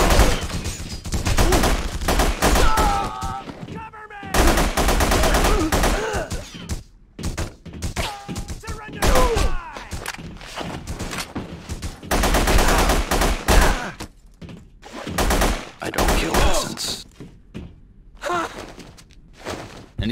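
PC game The Punisher, meat packing plant level: loud, dense bursts of gunfire come in rapid volleys with short silent breaks, mixed with grunts and gasps.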